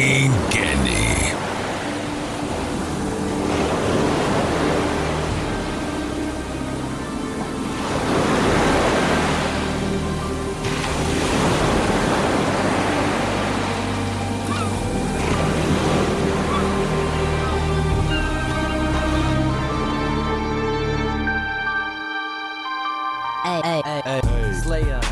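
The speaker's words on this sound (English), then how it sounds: "when you hear the sounds of the ocean, it means that the Sports Jock Show is coming to an end" Ocean waves and surf roll in a steady wash with wind, loud and continuous with surging swells every few seconds, before cutting to near silence near the end as a sign-off bed for a sports radio show.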